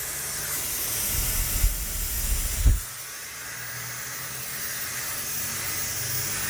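A JisuLife Ultra1 portable fan blows a steady airy hiss, with a few louder handling bumps early on before the rushing whoosh settles into an even drone.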